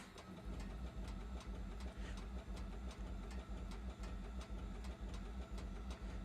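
A Bonanza A36TC piston engine in Microsoft Flight Simulator 2024 catching and settling into a steady, rhythmic idle with regular low pulses, faint and continuous.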